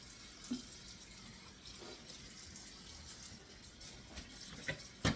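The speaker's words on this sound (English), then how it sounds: "I'm going to take some cold water" Tap water runs steadily into a sink, a soft continuous wash with a few light clunks and a louder knock at the very end.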